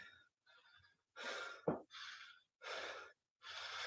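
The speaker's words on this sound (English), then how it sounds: "Are you ready for a lot of heavy breathing?" Heavy, deep breathing during a lower-body strongman training session: four or five long, loud exhalations separated by short silences, with one sharp gasp between them, close to the microphone.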